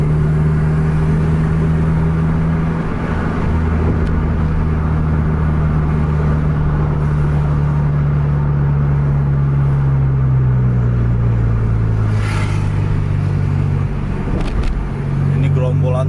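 A bus engine pulling hard on a winding road, a steady loud drone with slowly rising and shifting pitch, road rumble underneath and occasional voices in the cabin.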